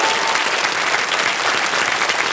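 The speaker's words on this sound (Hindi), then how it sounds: "एक बार तालियां बज जाएं इनके लिए।" Studio audience applause on a televised Hindi quiz show, dense steady clapping at full loudness throughout the short stretch, with no voices over it.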